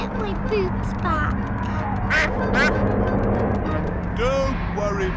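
A cartoon duck quacks several times in short nasal bursts, heard over a continuous bed of background music and other cartoon sound, moderately loud.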